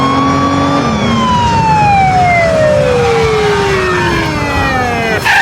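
A loud police siren wails nearby, its tone sliding steadily downward, with traffic rumble underneath and no talking.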